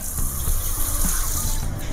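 Water added to an Odia fish curry in a pan, a loud close gush of pouring liquid with a bubbling, splashing texture that runs steadily throughout, no talk.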